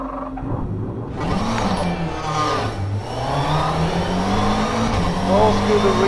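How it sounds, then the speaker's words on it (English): McLaren 720S GT3 race car in rFactor 2 with the ignition switched off, its engine note winding down while a turbo whine lingers; someone talks over it throughout. "What happens if I turn off the ignition? I still think you hear the turbo"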